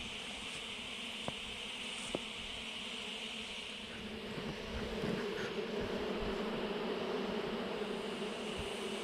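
A swarm of bees just cut out of a tree hums in a steady, fairly quiet drone around a wooden beehive and plywood board, with a few faint clicks and knocks in the background.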